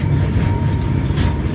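A tram running along its track toward a stub-end stop, a steady loud rumble of wheels on rail with a faint high whine, heard continuously from inside the cab.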